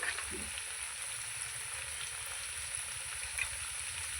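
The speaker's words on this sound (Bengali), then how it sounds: "লবণ দিয়ে আলুটাকে ভেজে নেবো ভালো করে" Potatoes fry in a pan with turmeric and salt, a faint, steady sizzle heard alone at low volume.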